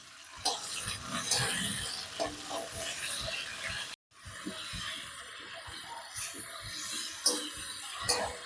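Tomato sizzles in a pan with split green chillies, a steady close frying hiss broken by stirring scrapes and a brief drop to silence midway, with no voices.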